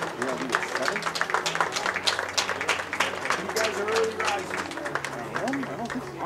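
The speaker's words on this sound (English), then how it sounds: "Fans, let's give a big round of applause to our Georgetown Hoyas graduating class." A baseball crowd at a Georgetown Hoyas game applauds the graduating class, steady scattered clapping with voices and chatter mixed throughout.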